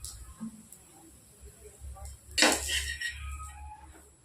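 A knife slices a cooked, non-fried snack through the middle, giving one short, bright scraping clatter against the pan or plate, with soft kitchen handling noises before and after.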